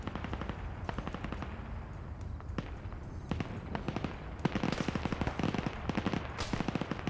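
Rapid automatic gunfire during a Falklands PvP multiplayer match, with steady bursts of clipped shots at mid distance. The shots thicken into denser, louder volleys in the second half, and no one speaks.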